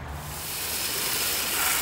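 A garden hose sprays water outdoors, making a steady, close, broadband hiss that holds unbroken for the whole moment.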